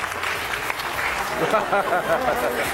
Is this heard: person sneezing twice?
no